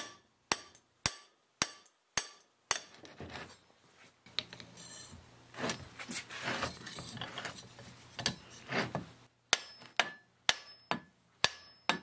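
Sharp metal hammer blows knock at a pulley on a John Deere 1010 tractor part, about a dozen ringing strikes in steady rhythm at the start and end, with scraping and clattering metal between.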